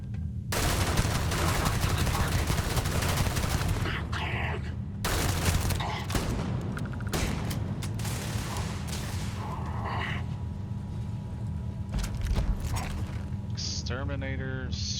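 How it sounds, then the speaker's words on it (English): The Exterminator's shotgun fires in Starfield amid a dense, loud barrage of gunfire and mechanical clatter that continues for about fifteen seconds, with sharp repeated blasts and brief gaps. "Exterminator's shotgun."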